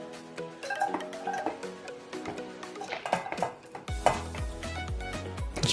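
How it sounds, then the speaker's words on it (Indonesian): Sliced shallots sautéing in a pan for spicy beef tongseng, with a soft sizzle under repeated clinks and scrapes of a utensil stirring, then a louder, denser frying sound toward the end. "sebelumnya kita tumis dulu untuk bawang"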